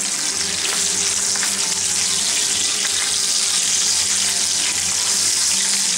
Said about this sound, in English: I'm gonna throw him in there and brown him up real good with that butter